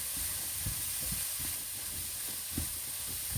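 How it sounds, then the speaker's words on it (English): Vegetables for a hake curry stirred and fried in a pan, a steady sizzle with soft scraping strokes of the stirring utensil at irregular intervals, close and continuous. "Mix well to coat the vegetables."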